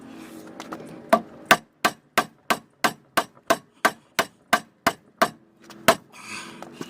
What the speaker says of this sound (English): I think I've maxed out with the rubber mallet.